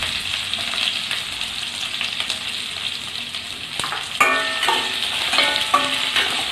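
Onions sizzle steadily in hot oil for vegetable aval upma, with crackling pops and a few clinks of stirring toward the end.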